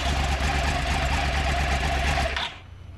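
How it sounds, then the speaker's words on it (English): The uneven-firing cross-plane crankshaft engine of a 2009 Yamaha YZF-R1 sportbike runs with a steady, throbbing, loud mechanical drone, then cuts off abruptly near the end, leaving quiet. "That's the new uneven firing interval cross-plane crankshaft"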